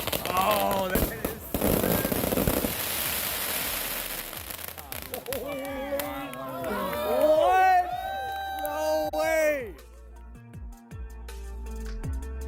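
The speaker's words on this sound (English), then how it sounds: "the fireworks shoot out of the water and into the sky" Fireworks launched from the water burst into the sky with a dense crackling volley, then whistling, screeching trails and pops, loud and close, while people react and cheer in the background.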